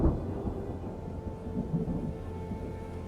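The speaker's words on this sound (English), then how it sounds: "And listen to those storms." Rumbling thunder and steady rain from a thunderstorm in an ancient Roman city builder game, a low continuous roll with a louder burst at the start, heard alone with no talking.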